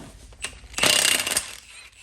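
Ratchet clicking close up while loosening the wheel nuts on a 2009 Nissan Altima during front wheel bearing work, a brief burst of rapid pawl clicks after a single click, with no talk.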